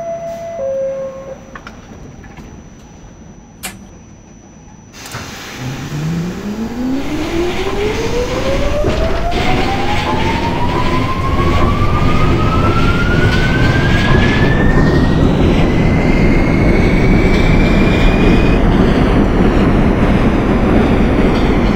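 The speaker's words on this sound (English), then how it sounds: "This is a Queens-bound A train." R46 A subway train in the OpenBVE simulator pulls away from a station, its motor whine rising steadily in pitch over loud rolling rumble after a brief door chime.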